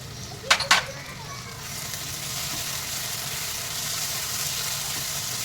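Red chilli, coriander and cumin powders roast over a low flame in a pan, making a steady close sizzle that builds gently after two sharp clanks of a spoon against the pan.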